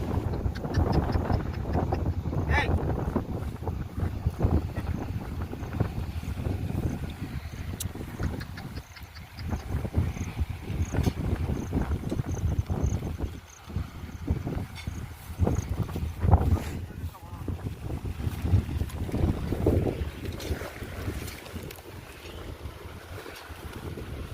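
A Captain tractor engine runs in a farm field during groundnut sowing, giving a steady, close, low rumble with wind buffeting the microphone and no speech.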